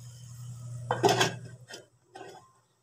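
A metal lid set onto a cooking pot of vegetables with turmeric and salt, a short clatter followed by a couple of lighter clinks, close and quiet over a low hum.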